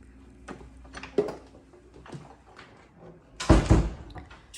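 An interior door into a two-car garage of a house in Tamarac, Florida opens with a short, fairly loud thump and rattle after a few faint clicks and footsteps in a quiet room.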